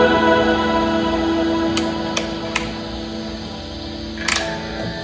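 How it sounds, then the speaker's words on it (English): An electric guitar's toggle switch gives a few sharp, isolated clicks over a steady amplifier hum. "You know that clicking sound of the toggle switch?"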